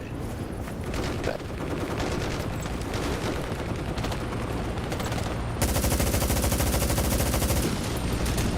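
Sustained automatic gunfire aimed at a helicopter in a Vietnam War video game, loud and continuous rapid bursts that grow denser and harsher partway through.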